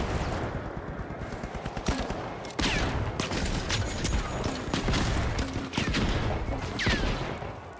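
Rapid bursts of CL-40 fire in the shooter game The Finals, sharp repeated shots in clusters with short gaps, loud and close, interspersed with explosive booms.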